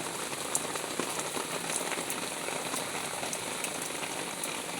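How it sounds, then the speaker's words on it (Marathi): Steady rain patters down on a surface, a dense continuous hiss with scattered sharper drops, moderately loud and with no voices. "कालपासून पाऊसच उघडला नाही"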